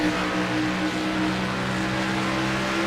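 A NASCAR Chevrolet race car engine in the iRacing video game, running in a Winston throwback series race at Rockingham, holds a steady, loud, buzzing drone with no talk over it.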